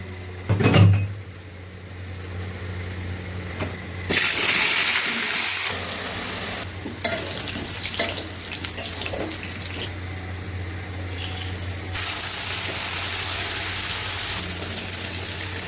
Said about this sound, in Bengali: বালতিতে করে জল নিচ্ছেন